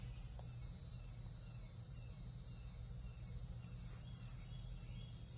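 A cicada buzzes outdoors near a porch, a continuous high, shrill drone holding steady and fairly close with no pauses or voices.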